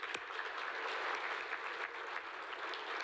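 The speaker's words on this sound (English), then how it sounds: "Have a round of applause once again for the voices of unity." Audience applause at the Pioneer Breakfast 2024 after a choir performance, a steady wash of many hands clapping, fairly quiet and distant.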